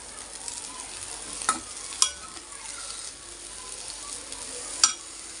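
Egg semiya being stirred and fried in a pan with coriander, curry leaves and mint, a steady soft sizzle with a few sharp clinks of the spoon against the pan.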